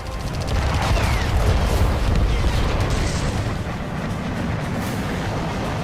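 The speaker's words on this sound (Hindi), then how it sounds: "धमाके की आवाज से कांप गई जमीन और फिर आसमान की तरफ उठा एक आग का गोला" A dense, continuous roaring rumble from a huge blast and fireball in Zhytomyr during the Russia–Ukraine war, steady and loud throughout with heavy low-end churn and no voices.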